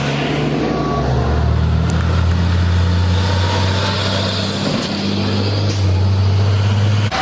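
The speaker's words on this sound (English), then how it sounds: "The tow trucks are showing up left and right." Heavy tow trucks rumble at a large car meet with police on the scene, their deep engines droning loud and close, with a steady low hum and a brief hiss of air brakes.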